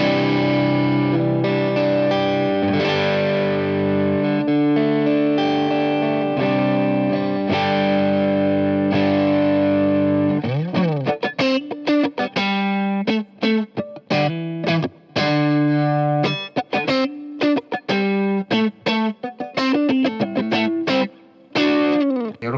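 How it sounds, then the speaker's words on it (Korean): Electric guitar through a BOSS GT-1000 CORE set to a crunch tone, played without an amp: sustained chords for about ten seconds, then choppy, rhythmic strummed and muted chords with a lightly driven edge. "이펙트 타입은 크런치로 세팅했습니다"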